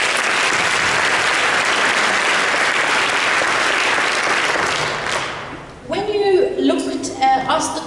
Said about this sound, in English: we should give you a round of applause for what you've achieved